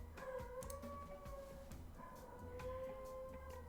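A dog howls in long, wavering tones that rise and fall, with a second sustained howl following after a short dip, steady and fairly loud over a noisy indoor background.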